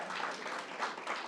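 Audience applause at a Long Island firefighters' event, a steady wash of clapping from a crowd filling the whole brief moment without pause.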